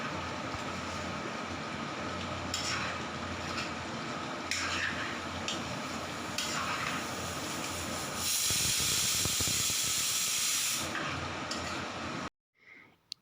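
Chopped ripe tomatoes fry in a pan with a continuous sizzling hiss. It swells louder for a few seconds late on, then cuts off abruptly near the end.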